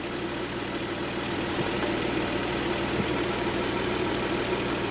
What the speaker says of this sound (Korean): 실린더 폭발음이나 급 배기 밸브 소리를 듣고 있어요